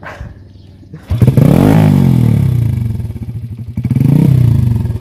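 A motorcycle engine revs close up, surging loudly twice with rising and falling pitch, with clattering mechanical noise and a quieter idle at the start; no one speaks.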